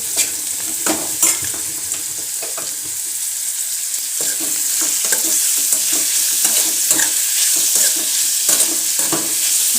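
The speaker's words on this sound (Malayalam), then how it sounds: "ഇത് നല്ലോണം ഒന്ന് വഴന്ന് വരട്ടെ. ഇപ്പോൾ ഉള്ളി നല്ലോണം വഴന്ന് വന്നിട്ട്" Onions sautéing in a frying pan for a soybean dish, a bright, continuous sizzle broken by repeated scrapes and taps of a spatula as they are stirred, close and fairly loud with no voices.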